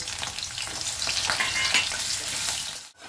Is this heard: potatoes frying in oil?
yes